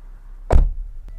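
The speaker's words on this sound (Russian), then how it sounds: "А давайте послушаем еще раз звук закрытия двери." A Toyota Brevis car door shuts once with a single solid, muffled thunk, close and fairly loud against a quiet background, followed by a faint small tap.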